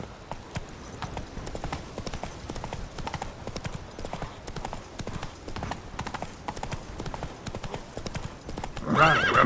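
Roach the horse gallops in The Witcher 3: Wild Hunt, giving a fast, steady clip-clop of hooves close by throughout, with a brief whinny or snort near the end.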